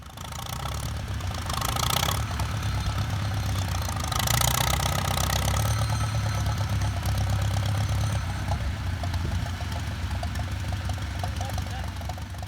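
An antique Farmall tractor engine laboring in a tractor pull, a steady, heavy, knocking chug heard from a middle distance under crowd noise and announcer-like talk.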